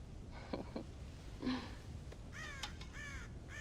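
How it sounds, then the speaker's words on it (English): Crows caw in Red Dead Redemption, several harsh calls in short bursts, a couple early and a louder cluster toward the end, mid-distance over a low ambient rumble. "God damn crows!"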